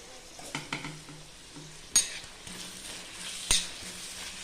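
Quiet frying hiss as onions sauté in oil for dum biryani, broken by a few spoon scrapes and two sharp metallic clinks against the pan.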